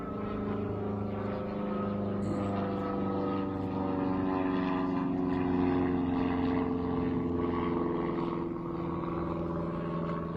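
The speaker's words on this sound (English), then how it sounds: "I'm just going to let this airplane fly overhead here" An airplane passes overhead with a steady, droning propeller hum of layered low tones, holding constant and fairly loud for about ten seconds without talk.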